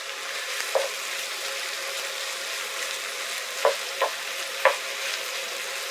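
Beef dropped into a hot pan for beef ravioli gives a steady, moderate sizzle, with a few short scraping stirs and clinks near the middle and end.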